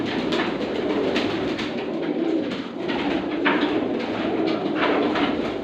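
Ferozpuri pigeons coo in a dense, continuous murmur from many birds close by, with a few sharper calls and flutters rising above the steady cooing.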